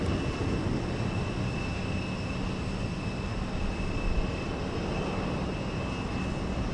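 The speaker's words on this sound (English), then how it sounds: "It's a propeller cargo plane." Antonov AN-12 propeller cargo plane at Houston Intercontinental Airport, a steady, loud broadband engine roar with a faint high whine, continuous throughout without voices.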